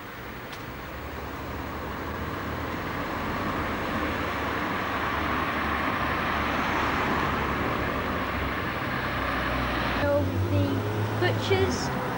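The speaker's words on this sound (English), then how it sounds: "there is a lot of traffic on the road" Steady road traffic rumbles through Clare village in Suffolk on a Sunday, a continuous broad wash of passing vehicles with a louder engine surge near the end; a voice talks over it.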